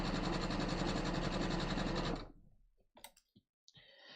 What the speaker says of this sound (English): we're just going to sew a neat 1/4 inch all the way around